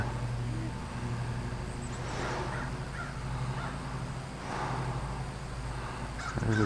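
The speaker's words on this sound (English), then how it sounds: "there's the crows" A few faint, distant crow caws come in two spaced bursts over a steady low hum outdoors around a New Hampshire town.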